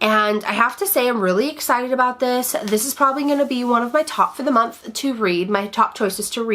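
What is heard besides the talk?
No everyday noises stand out.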